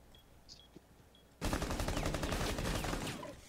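Video game gunfire bursts in suddenly after a quiet stretch and keeps going as a loud, dense, rapid automatic stream of shots until the end.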